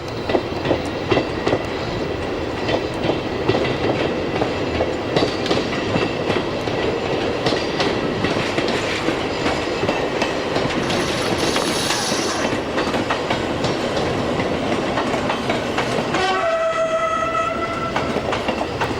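Electric multiple unit trains roll through Entroncamento, Portugal, with a steady rumble and rhythmic wheel clatter over the rails and a brief horn-like tone near the end.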